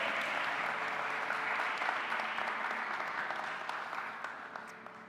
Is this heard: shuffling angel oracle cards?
no